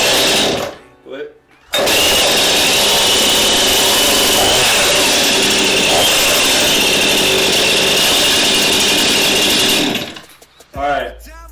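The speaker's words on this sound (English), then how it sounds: "I started the chainsaw." A chainsaw fires up after a choked start and runs loud and close at a steady high-pitched buzzing whine for several seconds before cutting off, with brief talk before and after.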